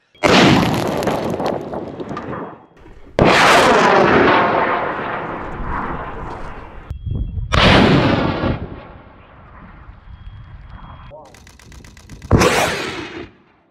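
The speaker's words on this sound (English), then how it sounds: "The motor burned for about half a second." High-power rocket launch of an Evolution Space flight on an N16,000 motor that burns for about half a second: several loud, roaring broadband blasts with sharp onsets, each fading out before the next, and no talking.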